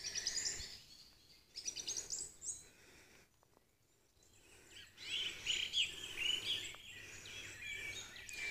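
Woodland birds sing and chirp in bright, repeated phrases, some close and clear, others softer in the distance, with a brief hush midway before the calls pick up again; no one speaks.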